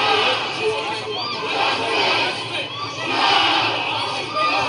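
A large crowd at a George Floyd protest in Columbus, Ohio, close and loud, with a dense wash of shouting, cheering and chanting voices that swells and fades in waves and never lets up.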